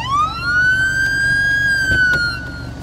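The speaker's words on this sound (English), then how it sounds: "Oh my god, he's got sirens." A single loud police siren tone in the video game State of Decay 2 sweeps up and holds steady, wailing continuously with a synthetic, game-like quality, nearby and alone.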